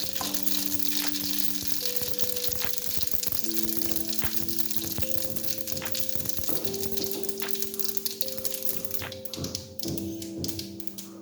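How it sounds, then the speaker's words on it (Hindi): Mustard seeds sizzling and crackling in hot oil for a beef curry khausa, a constant dense frying hiss with scattered pops and taps, while steady tonal hums run underneath throughout. "अब इसमें हम राई दाना ऐड करेंगे।"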